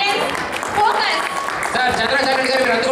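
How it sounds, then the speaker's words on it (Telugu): An audience at an Omaha Ugadi 2014 stage program applauds with a dense, continuous patter of clapping throughout, and voices sound over it. "ఒక్కసారి గట్టిగా క్లాప్స్ కొట్టండి"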